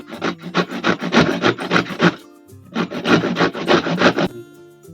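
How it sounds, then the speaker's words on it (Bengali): Pointed gourds are scraped against a small kitchen grater in quick, rhythmic rasping strokes, two close runs of about eight strokes each separated by a short pause, while cooking a vegetarian dish. "গিটারের সাহায্যে আমি ঘষে নেব সব পটলগুলো।"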